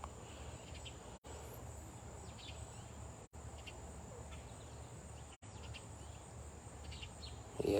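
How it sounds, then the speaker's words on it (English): Steady insect drone, likely bees buzzing around plants as they are fed outdoors, a continuous hum with high chirping over it and a few brief dropouts. "Now it's feeding my bees. Feeding the bees."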